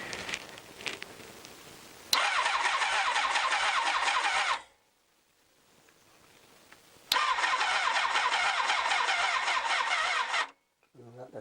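Honda CBR1000F motorcycle cranking on its starter button, two loud, steady whirring bursts of a few seconds each separated by a quiet gap, with brief speech heard at the start.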